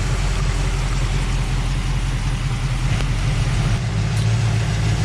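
Car engine idling hot while its thermostat opens during radiator burping, a steady low drone that swells and dips slightly in pitch and level, loud and close with no talking.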